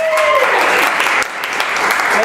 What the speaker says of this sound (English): give them a big round of applause. Sounds like this.